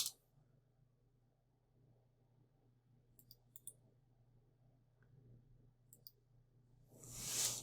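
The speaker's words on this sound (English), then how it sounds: "I'm typing with one hand because everything is on a bed, so slightly slower typing than I usually would be" Sparse, quiet clicks of one-handed typing on a computer keyboard beside a bed, a few isolated keystrokes spread over a low steady hum, ending in a louder rustle.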